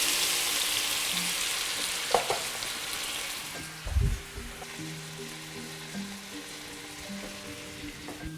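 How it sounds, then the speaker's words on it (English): Mandarin orange slices sizzle in a hot pan, with a loud, steady frying hiss throughout, a couple of brief knocks as pieces are added, and a faint hum underneath. "They have to be grilled on a hot pan, otherwise they are overcooked. And we are adding the oranges."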